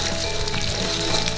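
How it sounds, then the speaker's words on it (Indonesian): An egg fries in hot oil in a pan while mie jawa goreng is cooked, a dense continuous sizzle and crackle with no talking. "setelah telur kita goreng seperti ini, setelah masak, nah telurnya ikut tergoreng"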